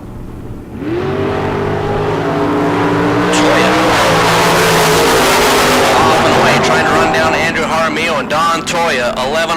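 At a drag strip starting line, a 1934 Chevy Roadster and other drag cars launch. Engines burst into a loud, sustained roar with screeching tires, under a commentator's voice.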